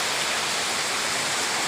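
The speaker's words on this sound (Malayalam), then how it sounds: "ഇവിടെ ഭയങ്കര കാറ്റും മഴയുണ്ട് ഇവിടെ," Heavy wind and rain outside a house during a power cut make a continuous, dense hiss and rush that stays steady and even from start to finish, with no voices.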